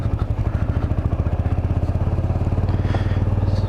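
A Kawasaki Vulcan 500 motorcycle runs at close range during a ride, its engine putting out a steady, fast, rhythmic low thumping pulse with a light mechanical clatter on top, fairly loud and unbroken, and no one speaking.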